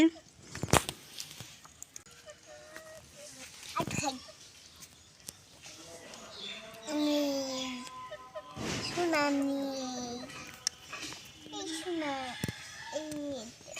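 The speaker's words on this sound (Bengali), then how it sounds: "ওই যে পিছনে মুরগি" Chickens cluck intermittently in the background of a home, their calls mixed with nearby voices and someone speaking, with a few sharp knocks and bumps.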